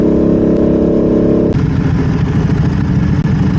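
A Ducati 1199 Superleggera motorcycle engine accelerates hard and close, a loud steady high-revving roar that shifts pitch once partway through, with no talking.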